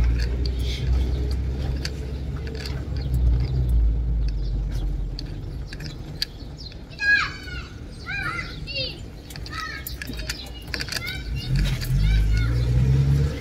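A car rolls along a street in Egypt during Eid celebrations, a low engine rumble and road noise under scattered voices and children's calls outside.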